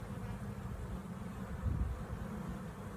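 Honey bees buzz around their hive, many of them newly emerged young workers, making a steady, quiet, low droning hum that swells slightly midway, with no voices.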